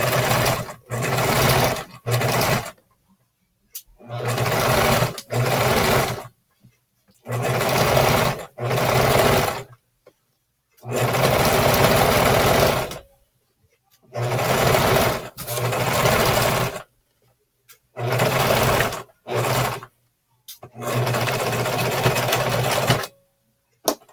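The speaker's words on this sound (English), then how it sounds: "we're going to do a serging stitch" A serger sewing a serging stitch on fabric with a 5/8 inch seam allowance, running in about eight loud, steady bursts of one to three seconds, with short silent pauses between them.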